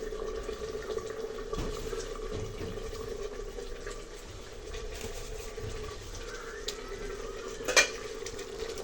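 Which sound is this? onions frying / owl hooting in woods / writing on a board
onions frying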